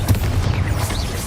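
Bombarda explosion spell cast in the game Hogwarts Legacy, a dense, continuous low booming rumble with crackling detail throughout, loud and close with no talking.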